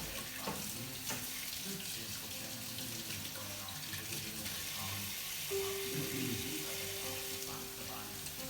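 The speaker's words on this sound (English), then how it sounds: "Then rinse under the tap." Tap water runs steadily into a sink while a humidifier part is rinsed underneath, a soft continuous hiss and splash with faint clatter of handling, fairly quiet throughout.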